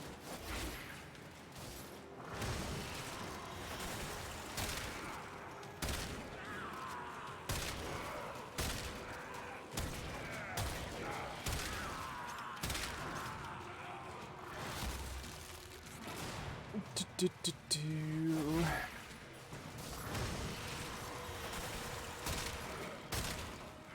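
Bursts of rapid gunfire from the video game Warframe, fired in repeated volleys for headshots, with a dense clattering mix of game effects over a steady background and a brief flurry of shots near the end.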